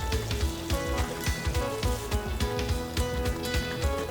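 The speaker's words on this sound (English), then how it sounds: "We're almost poaching the fish fillets in this lovely tomato sauce." Fish fillets simmer in tomato sauce in a pan, giving off a steady, close sizzle and bubbling with soft irregular pops and no talk over it.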